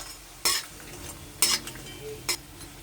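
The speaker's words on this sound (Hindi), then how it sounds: "अब इसमें ये फ्राई करके निकाल लूंगी। ज़्यादा देर तक फ्राई नहीं करना है" Greens fried briefly in hot oil in a pan: a low steady sizzle broken by three sharp stirring scrapes of a spatula against the pan.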